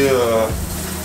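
Water sprays from an old shower head in a loud, rushing hiss that drops in tone and eases about halfway through, heard close up.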